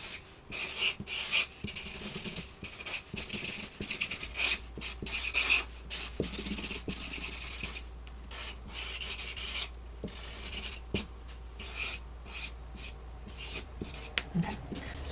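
Pro-Marker felt tip rubbing and scratching across paper while shading storyboard frames, a close, steady squeaky rasp of repeated strokes that continues without pause.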